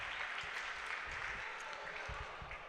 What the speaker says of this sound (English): Robert Wisen getting applause as he heads off the court.